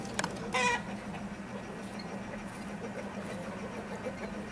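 Brahma chickens in a pen give a brief rooster-like cluck or squawk near the start, then only faint background hum remains, quiet and somewhat distant.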